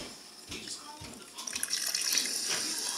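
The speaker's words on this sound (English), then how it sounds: "a cup with ice and putting Sprite into the cup" Sprite is poured into a cup of ice, giving a steady fizzing, splashing hiss that rises and continues close to the mic.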